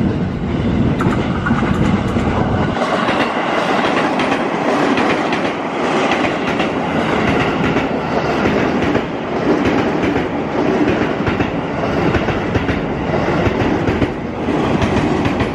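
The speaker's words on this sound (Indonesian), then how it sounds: "Ini ada kereta melintas dari arah stasiun" A train rolls past the Dewi Sartika railway level crossing in Depok, coming from the station side, a loud, steady roar of wheels with rhythmic clickety-clack over the rail joints, close by throughout.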